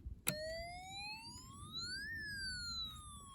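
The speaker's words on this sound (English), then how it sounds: "you'll hear an upside down siren" A Snap Circuits SC-750 integrated circuit produces an upside-down siren effect: a click, then one electronic tone that sweeps up and falls back down. It is faint and alone, with a hiss underneath.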